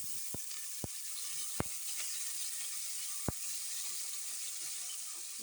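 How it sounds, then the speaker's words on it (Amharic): Onions frying in hot oil in a pan, a steady soft sizzle that goes on throughout, broken by a few faint sharp pops and clicks, with no talking. "ቀድመን ሽንኩርት እንጠብሳለን።"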